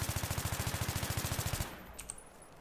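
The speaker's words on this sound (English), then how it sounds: "Let's try a mag dump." An AEK assault rifle in Battlefield 3 fires a full-magazine dump, a loud, close, rapid and evenly spaced burst of about twenty-five shots lasting roughly a second and a half, then stopping abruptly with faint clicks after.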